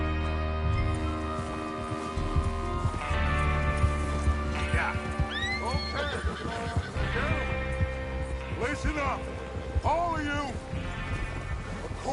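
Several horses whinny and neigh in bursts over a steady low drone and faint hoofbeats, with an ambient backdrop from the video game Red Dead Redemption 2.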